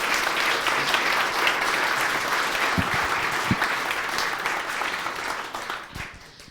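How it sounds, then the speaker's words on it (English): An audience claps for the speakers at the end of a public science talk on neutrinos, with full, steady applause that holds for several seconds and then tapers off near the end. "can we give our speakers a round of applause"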